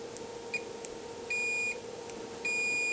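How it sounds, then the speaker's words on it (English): A multimeter's continuity-test beep sounds twice, each tone held about half a second over a low hum, with a few faint clicks between. "Yep, it beeps."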